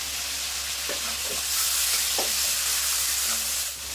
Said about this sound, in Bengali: সরষে বাটা দিয়ে কিন্তু আমি একটু কষিয়ে নিয়েছি